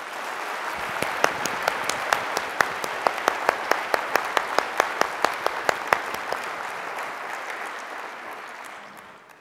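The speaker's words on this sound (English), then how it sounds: "let's give him a round of applause, too." An audience at an MIT Technology Day faculty presentation claps steadily, with sharp individual claps standing out near the front before the applause fades away.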